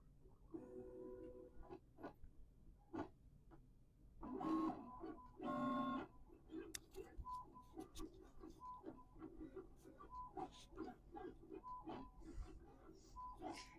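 LOKLik iCraft cutting machine making its first cut, giving a quiet run of tiny chirps, whirs and ticks with a few louder motor bursts partway through, close by and with no talking.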